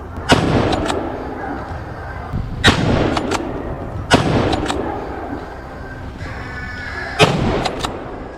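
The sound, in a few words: gunshots during a wild boar hunt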